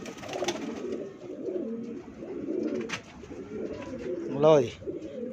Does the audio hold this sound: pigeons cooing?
yes